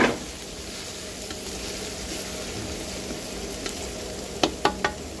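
Garlic frying in a pan for Ilocano sapsapureket, a steady soft sizzle throughout with a few sharper spatters and pops near the end, no talking.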